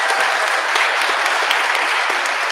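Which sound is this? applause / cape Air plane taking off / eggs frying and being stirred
applause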